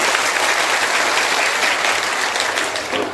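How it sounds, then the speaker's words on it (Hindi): Dense, sustained applause from a large crowd at an outdoor political rally in Bihar, steady clapping filling the whole stretch at close range with no speech over it. "एक बार जोरदार ताली बजाइए"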